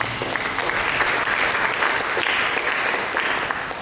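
Church congregation clapping together in a dense, steady round of applause, loud and close, filling the whole moment without speech.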